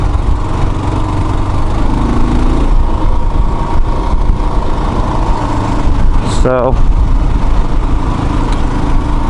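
A loud Kawasaki KLR motorcycle engine running on a ride, a constant heavy drone with wind rush, close and dominant, with a brief voice heard over it.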